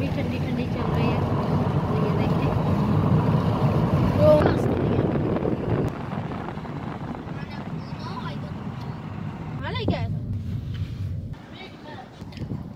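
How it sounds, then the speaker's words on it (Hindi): Cool wind blows outdoors on a sunny day, a steady low rushing buffet across the microphone that eases slightly midway and continues throughout, with faint voices in the background. "ठंडी हवा चल रही है"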